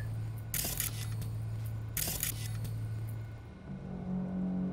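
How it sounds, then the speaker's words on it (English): A window shutter is closed in Cyberpunk 2077, with two brief scraping rattles about a second and a half apart over a low steady hum, then a faint tonal settling at the end. "So I close the shutter there"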